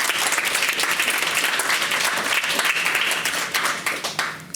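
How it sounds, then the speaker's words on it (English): A full audience breaks into sustained applause at a conference panel, dense even clapping from many hands that holds steady, then thins and tapers near the end. "I think a round of applause then, please."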